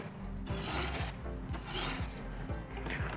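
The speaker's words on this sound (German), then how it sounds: "hier kann man das Gerät noch kippen für die größeren Klingen. Bis es hörbar einrastet." A Böker Professional Precision Adjust knife sharpener is tilted, giving a steady run of crisp, evenly spaced mechanical clicks, close and fairly quiet, about two per second.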